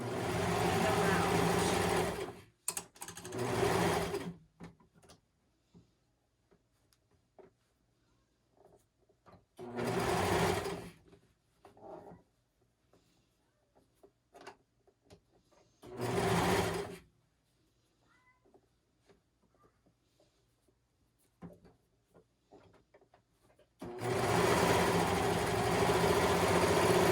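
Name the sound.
sewing machine stitching a blanket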